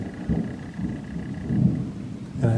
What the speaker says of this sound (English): The thunder has been rolling for most of the day.